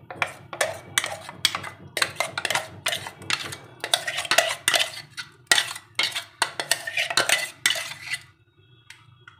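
Moong dal idli batter being scraped from a grinder jar into a bowl with a spoon, giving a close run of quick clinks, taps and scrapes in irregular bursts that stop near the end.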